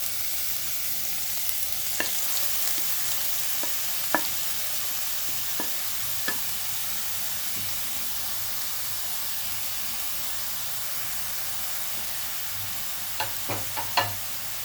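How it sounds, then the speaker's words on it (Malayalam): Grated carrot sautéing in two tablespoons of ghee in a pan for carrot halwa, giving a steady soft sizzle with occasional light clicks of stirring, faint and close, no voices. "ഇനി ഇതിൻ്റെ അകത്തിലോട്ട് നമ്മൾ എടുത്ത് വെച്ചിരിക്കുന്ന ഗ്രേറ്റഡ് ക്യാരറ്റ് ഇടാം"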